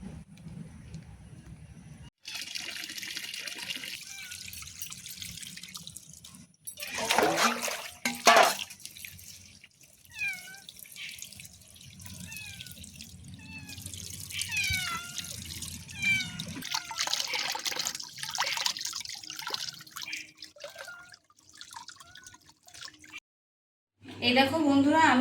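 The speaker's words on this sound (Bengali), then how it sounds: "চলো এবার ভালো করে ধুয়ে নিয়ে আসি কলপাড় থেকে।" Water from an outdoor tap splashes and drips while a katla fish is washed, with irregular trickling through the middle and voices talking nearby.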